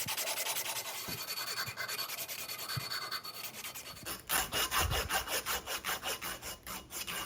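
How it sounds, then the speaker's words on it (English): Sandpaper is rubbed over the sharp edges of a small metal U slide part for a six-cycle engine, making close, steady, rhythmic back-and-forth rasping strokes with no talking. "take off the sharp edges of this with a piece of sandpaper"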